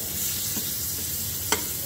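A cheese and ham sandwich sizzles steadily in a frying pan, with a single sharp scrape or clack near the end as it is flipped; no voices.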